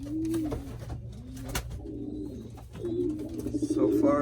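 Young breeding pigeons coo in a loft, soft rolling throaty calls that repeat close by and swell toward the end, with someone talking in the background.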